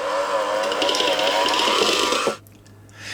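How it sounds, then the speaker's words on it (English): A handheld electric mixer beats cream cheese with a steady, close, loud whir, then cuts off abruptly near the end and leaves near silence. "using a handheld electric mixer, we are just going to give this cream cheese a light beating just to get it nice and smooth"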